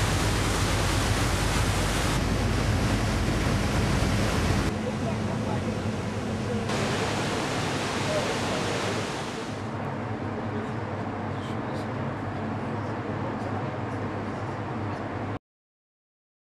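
Loud, steady rushing roar of water pouring into a Volga river ship lock chamber, constant and broadband throughout, easing slightly partway before continuing.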